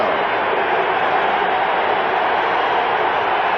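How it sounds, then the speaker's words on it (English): Stadium crowd at a 1985 NFL game between the Houston Oilers and Pittsburgh Steelers, a dense, loud, unbroken roar of ovation that holds steady throughout. "And the crowd, an ovation for the defense."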